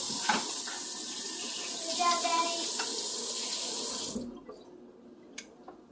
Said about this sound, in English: I'm going to go ahead and do a quick rinse job